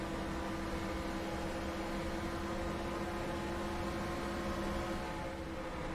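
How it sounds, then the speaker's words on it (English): Race car engine heard from the cockpit in the NASCAR Racing 2003 video game at the GFS Marketplace 400, a steady, loud droning hum with sustained tonal bands and no change in pitch throughout. "And the sound you're hearing of our car is actually what it would sound like in the cockpit."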